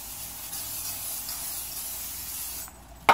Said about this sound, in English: Then you're going to spray your pan